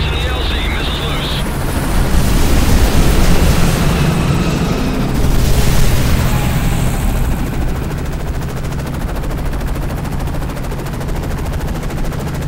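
Missile launches and heavy combat in Call of Duty Modern Warfare 3, a loud, continuous roar of rotor and engine noise with machine-gun fire and blasts, and radio voices over it.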